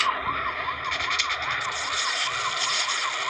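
Police sirens wail in The Rope Hero Android game, with a loud, continuous rising-and-falling tone repeating steadily, close and alone.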